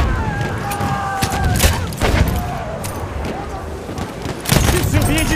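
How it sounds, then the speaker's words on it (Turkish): Battlefield 1 gunfire in a Conquest match, with a sustained fusillade of rapid shots and heavy thumps, loud and dense, while voices talk over the din. "Orada bir makinalı tüfek var."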